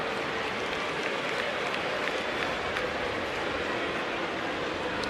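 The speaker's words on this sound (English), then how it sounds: "Big crowd at Wrigley ready to cut loose." A big baseball crowd at Wrigley Field, Chicago Cubs hosting the Boston Red Sox, applauds and roars as a steady, dense wash of noise that holds at the same level throughout.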